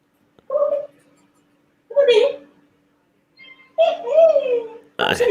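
A pet cat meows several times at close range, in short separate calls with pauses between them, and the last call is cut off by a sharp sound at the end.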